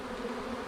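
Honeybees at an open hive make a dense, steady buzz close by, an even drone with no talk over it.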